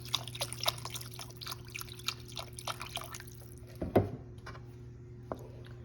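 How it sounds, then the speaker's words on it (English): Water being poured into a pan of gravy for smothered meatballs, heard as a quick run of soft drips and trickles followed by a brief clunk, faint against a steady hum. "This is water."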